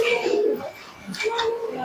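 A Jiriya pigeon pair, including a black Jiriya, coos in short low murmuring bursts close by, with soft broadband rustle and brief overlapping background noise through the second half.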